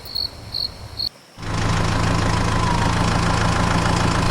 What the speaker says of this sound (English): Soon the sound of truck wheels broke the silence of the village.